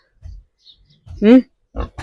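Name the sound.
piglet grunting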